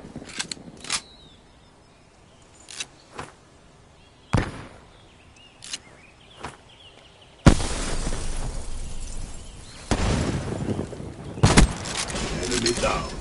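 A frag grenade blows up in an online shooter match, a loud sudden blast that breaks over several quieter clicks and thuds, followed by a sustained rumble of noise and further bangs.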